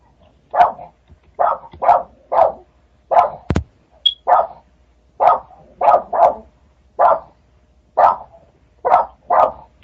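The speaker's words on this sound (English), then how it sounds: "I'm hearing a dog bark." A dog barks repeatedly in close, loud bursts, mostly in pairs and triplets with short pauses between them, clear against a quiet background.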